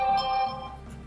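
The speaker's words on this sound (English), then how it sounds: "Excuse me, that was my phone." A mobile phone ringtone chimes briefly, a bright electronic tone heard close and clear for about a second before fading.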